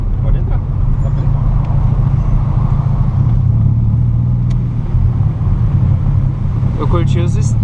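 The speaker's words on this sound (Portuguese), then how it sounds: "Eu curti os estralos que ele dá na hora que tá em 1000 e poucos giros." A Volkswagen Golf MK3 runs with its exhaust mufflers removed, a loud, rough, close engine drone at low revs, and a voice briefly cuts in near the end.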